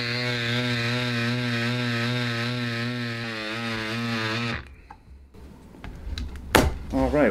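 An electric Cycplus Cube pump inflating a bike tire drones loudly and steadily with a buzzing motor whine. It then cuts off abruptly, followed by quieter handling clicks and rustles near the end.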